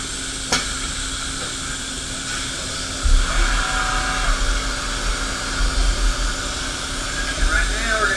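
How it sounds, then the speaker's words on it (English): A four-flute 1/4 inch ball end mill plunges into a titanium billet, giving a steady high whine and a grinding rumble that grows louder partway through, with a continuous machine hum underneath. "We're plunging straight in on a 4-flute ball end mill."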